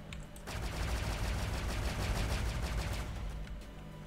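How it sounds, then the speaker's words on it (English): Video game gunfire: a rapid, sustained automatic burst of shots rattling steadily for several seconds after a brief pause, loud and close with no talking. "I've got a funny feeling somebody's going to shoot me"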